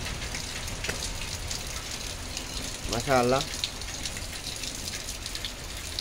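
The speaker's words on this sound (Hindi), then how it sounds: "आज इतना बारिश हो रहा है कि आधा घंटा से कम नहीं हो रही है पहली बारिश।" Steady heavy first rain of the season patters and hisses throughout, with a brief spoken exclamation in the middle.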